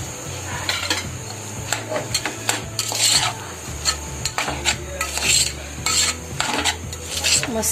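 Grated coconut is stirred into a fasting-style bhaji in a pan, with a spoon scraping and clinking against the pan over a light sizzle, in repeated rhythmic strokes at close range.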